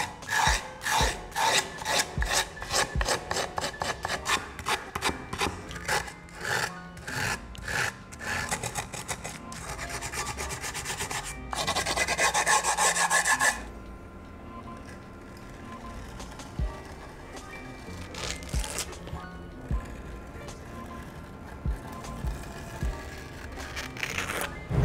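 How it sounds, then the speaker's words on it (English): Rhythmic rasping strokes of a file worked across scooter grip tape, fast repeated scrapes for about thirteen seconds, then a softer, steadier scraping texture continues without talk. "to actually file down your grip tape"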